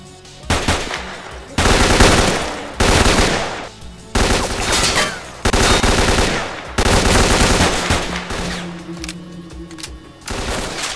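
Loud automatic gunfire in the S.T.A.L.K.E.R.: Clear Sky shooter game, with a weapon firing 9x19 ammo in repeated sustained bursts separated by short gaps, close and dominant.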